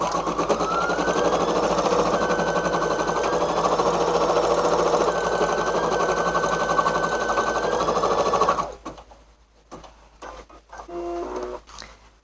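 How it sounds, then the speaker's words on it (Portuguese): An embroidery machine stitches placement markings onto fabric for a 3D bear ear design, a fast, steady mechanical rattling hum close by for about eight seconds before it stops, leaving quiet handling noises. "vamos deixar a máquina marcar onde a gente vai posicionar esse tecido aqui"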